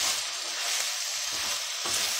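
Chicken mince fries in a pan with a loud, dense, continuous sizzle as green chillies are added and stirred, giving a few soft scraping bumps.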